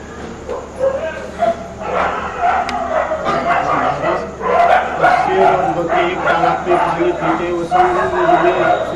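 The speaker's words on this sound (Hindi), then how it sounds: "कुत्तों की आवाज ज्यादा सुनाई पड़ रही है" Several dogs bark repeatedly at a moderate distance, overlapping with a busy background of voices and some traffic noise.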